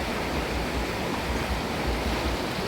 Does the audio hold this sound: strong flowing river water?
yes